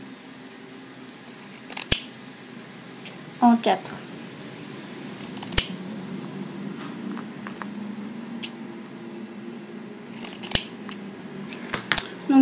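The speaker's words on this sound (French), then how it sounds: "je vais venir découper un coton" Scissors snip through a cotton pad in several sharp, close clicks spaced irregularly, with a quiet room background and a brief spoken word.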